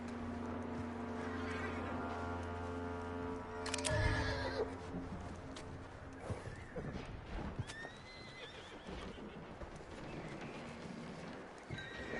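A horse neighs and whinnies loudly close by, with clip-clop hoofbeats and stamping mixed in, set in a Wild West scene.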